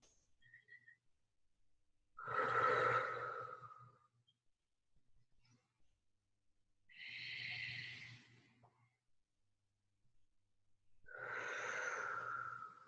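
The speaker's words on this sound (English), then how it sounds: "Let's take 3 deep breaths." Three slow, deep yoga breaths taken in a forward fold, each a long, soft, airy rush lasting about two seconds, separated by quiet pauses in a calm room.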